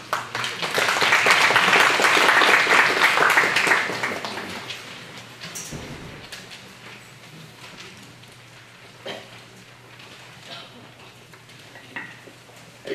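An audience claps at a school district event: a dense burst of applause swells for roughly four seconds, then thins out to scattered claps and quiet room noise.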